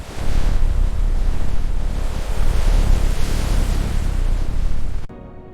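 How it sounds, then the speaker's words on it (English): Heavy, continuous roar of stormy ocean surf and wind at the Great Barrier Reef, loud and steady for about five seconds before cutting off abruptly. "Yet the reef must constantly endure powerful ocean storms."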